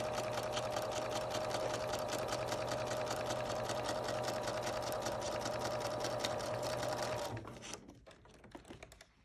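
A sewing machine runs at a steady, rapid pace, stitching two fabric layers of a mask together with a constant motor hum and needle clatter, then stops near the end, leaving a few faint handling clicks.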